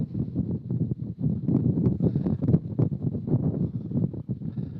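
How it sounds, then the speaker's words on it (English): Strong gusts of wind buffet the microphone at an outdoor baseball field in Savanna, a loud, continuous roaring rumble with choppy bursts and no talking. "here comes another gust"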